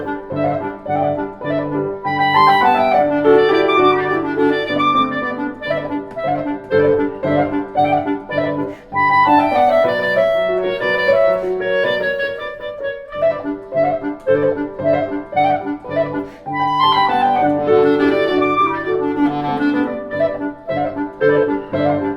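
Violin playing Tchaikovsky with an added second harmony voice over piano accompaniment, a steady melodic passage in a rehearsal setting, with no talking.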